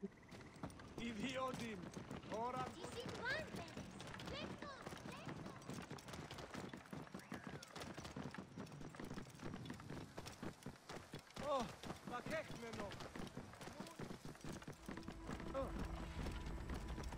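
Rhythmic hoofbeats of a horse trotting in Assassin's Creed Origins, steady clip-clop running under game music and occasional voices, with a brief whinny.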